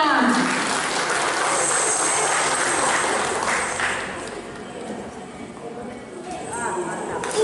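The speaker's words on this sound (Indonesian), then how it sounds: "Sekali lagi beri aplaus untuk kolom 6" A church congregation at an Easter service applauds, with dense, steady clapping that stays loud and then eases slightly toward the end, with voices mixed in beneath.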